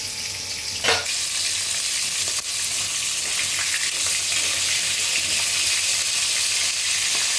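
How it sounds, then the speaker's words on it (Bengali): Vetki fish pieces fry in hot oil in batches, giving a dense, continuous sizzle that holds steady throughout, with one brief louder splash or clatter near the start and a faint knock midway. "3 থেকে 4 মিনিট করে মোট 6 থেকে 7 মিনিট ধরে আমি এক এক ব্যাচ ভেজে নিলাম।"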